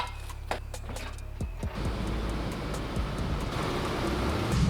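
A Chevrolet Astro van idles, then pulls away and drives on, its engine and road noise building into a steady rumble heard from inside the cabin.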